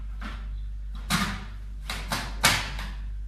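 A 4x5 film holder being slid into a large-format film camera, heard as a few separate dry clacks and scraping thumps spread over a few seconds, close and moderately loud over a steady low hum.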